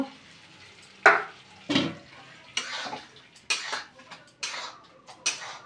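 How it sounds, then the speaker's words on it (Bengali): Cauliflower with sour yogurt is stirred and fried in a pan, giving repeated scraping strokes and clinks of a spatula on metal, roughly one every second, over a faint frying hiss, with no talking. "দেখতেই পাচ্ছ, এইভাবে কষাচ্ছি"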